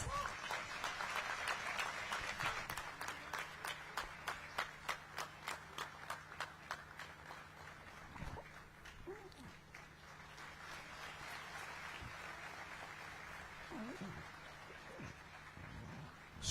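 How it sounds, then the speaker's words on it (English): Audience applause at a university convocation ceremony in Gandhinagar, heard as a faint, distant round of clapping that breaks into rhythmic unison beats before fading into scattered claps and room noise. "Dr. S. Jaishankar, huge round of applause."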